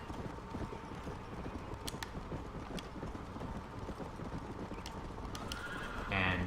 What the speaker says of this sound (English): Got some wild horses.